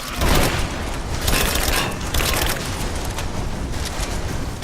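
Grenade blast in the video game Rise of the Tomb Raider: a dense, loud burst of booming, crackling explosion noise with several sharp hits, sustained and rumbling throughout.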